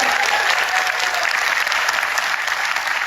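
Steady, loud applause from a large audience at a business seminar, dense and continuous for the whole stretch with no talk over it.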